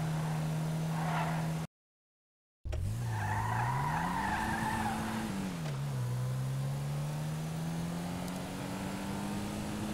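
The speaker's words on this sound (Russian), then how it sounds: "при торможении машина скользит довольно далеко" A Declasse Asea, a front-wheel-drive car with weak brakes in GTA 5, skids a long way while braking at low speed, its tires squealing over a steady engine drone after a brief dropout; no one speaks.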